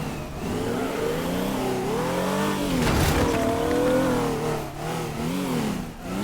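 A sports car engine in the game Teardown revs up hard, rising and falling through gear changes over several seconds, loud and close, with a brief tire squeal partway through.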